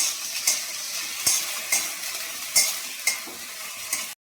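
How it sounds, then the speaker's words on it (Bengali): Onion fries in hot oil in a kadai with a steady hiss, broken by several sharp metallic clanks of a spoon stirring against the pan. "পেঁয়াজটা দিয়ে আমি একটু ভেজে নিই।"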